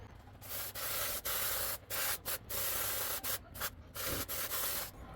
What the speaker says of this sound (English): we will need to clean it up with some brake cleaner